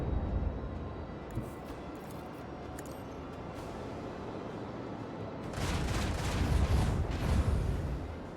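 Torpedoes launched in a video game, a dense low rumbling roar that swells louder midway and holds as a heavy sustained rush.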